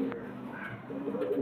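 Two Dowaj pigeons cooing softly in a low, steady murmur, with a brief higher call in the middle; the sound is faint and close, with no speech.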